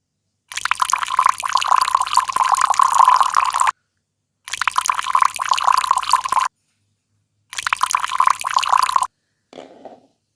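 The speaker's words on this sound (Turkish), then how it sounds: "Hemen döküyorum çaylarınızı da." Tea poured from a toy teapot into small toy cups during Barbie doll play, heard as three steady splashing pours separated by short pauses, then a brief soft trickle at the end, with no talking.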